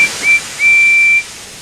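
A steam engine's whistle in a Roblox Thomas and Friends game sounds in three clear, shrill blasts: two short toots followed by a longer sustained tone over a soft hiss.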